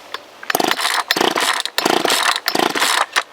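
A Poulan Wild Thing chainsaw engine sputters and catches in short bursts, revving up loud and rough for about half a second at a time before cutting out, repeating several times close by.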